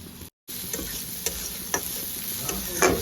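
Chopped onion with a pinch of sugar frying for masala poha, a steady close sizzle in a pan broken by a brief silent gap and a few light clicks of stirring.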